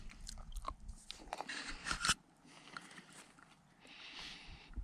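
Snack being eaten outdoors during a late-season archery mule deer hunt in western North Dakota, with close crunchy bites and chewing in bursts over the first two seconds, then quieter rustling and outdoor ambience.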